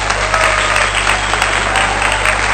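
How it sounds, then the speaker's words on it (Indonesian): An audience claps together in a room, a dense, steady patter of applause at even loudness that stays level for a couple of seconds. "Tepuk tangan."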